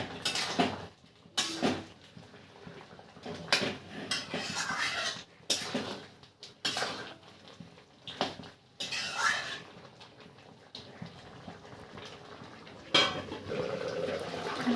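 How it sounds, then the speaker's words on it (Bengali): Metal utensil scraping and clattering against a pot while mutton curry with coriander powder is stirred and sautéed, in irregular bursts of clinks and scrapes at moderate loudness, no talking. "আবার অল্প সময় 5 মিনিটের মতন আমি আবার কষিয়ে নেব।"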